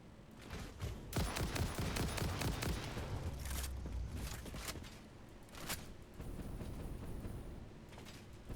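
Rifle fire in Satisfactory comes in distant, muted bursts of rapid shots, thick early on, then thinning to scattered cracks among softer mechanical game sounds.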